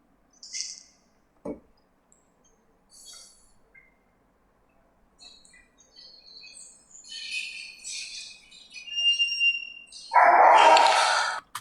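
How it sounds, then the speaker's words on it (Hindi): A dog barks in short, separate bursts against a quiet background, with some chirping bird calls mixed in; a louder, longer burst of noise closes the passage. "ये रहा हमारे वो कुत्ते के भौंकने की आवाज़, ये रही।"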